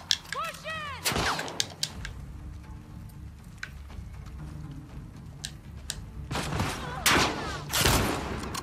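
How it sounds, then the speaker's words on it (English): Gunfire in The Last of Us Part II, scattered loud single shots and short bursts spread across the stretch, some sharp and close, over quieter game ambience. "Who's shooting at me?"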